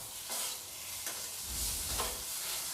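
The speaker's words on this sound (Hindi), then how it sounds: "ये मसाला 2-3 मिनट तक भूनने के बाद ये बिल्कुल भूनकर तैयार हो चुका है।" Masala spices fry and sizzle in a pan as they are stirred, a close, steady hiss with soft scraping strokes of the spoon, heard alone without talk.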